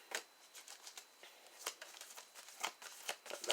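Tarot cards being shuffled in a quick run of soft riffling, papery flicks, close and quiet with no voice over them.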